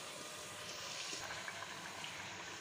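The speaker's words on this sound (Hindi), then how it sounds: "ये देखिए थोड़ा सा पानी डाला है मैंने इसके अंदर आलू गलाने," Water poured into a pan of potatoes and fenugreek leaves cooking on the stove gives a steady, soft hiss of sizzling and bubbling that stays even throughout, with no voices.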